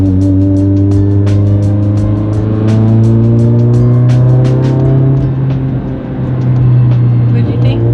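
A car with a newly installed, 40-mile engine cruises at a steady pace, a loud close droning engine note rising and settling, with voices speaking under the engine.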